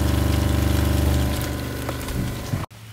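A water pump runs in a tiny house rainwater system with a valve open, giving a steady close mechanical hum with rhythmic pulsing that eases off before cutting out abruptly near the end.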